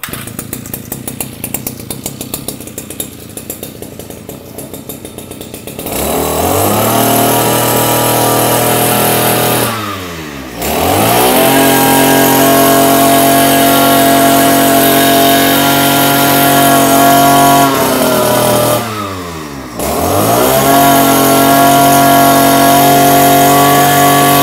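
A used Japanese 37-38cc engine machine, likely a chainsaw, is started and revved loudly and steadily close up, with two brief dips where the throttle drops to idle before roaring back.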